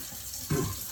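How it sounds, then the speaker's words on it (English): Kitchen faucet running water in the background, a steady low wash that swells louder about halfway through and then keeps flowing. "you can probably hear my faucet running in the background."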